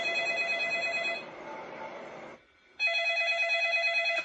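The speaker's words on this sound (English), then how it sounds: "it's an old style phone." An old-style telephone rings with a bright, trilling electric bell, one long ring, a short gap, then the next ring starting up loud and close.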